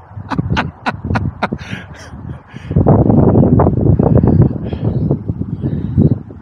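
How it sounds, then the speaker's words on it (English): Strong wind gusts across the canal basin at Bugsworth in stormy weather: a few sharp knocks at first, then a steady, loud rushing roar buffeting the microphone for several seconds. "It is a windy day."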